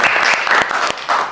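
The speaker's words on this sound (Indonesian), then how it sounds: "Tepuk tangan teman-teman buat pertanyaannya." Lively audience applause for a question at an academic teaching session, loud clapping from a crowd that carries through the whole moment with a brief dip near the end.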